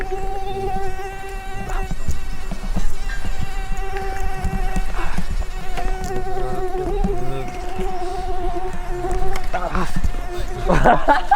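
A person's voice imitates a buzzing mosquito with a sustained, whiny nasal drone that wavers in pitch for several seconds, loud and close, with faint background noise from a skatepark setting.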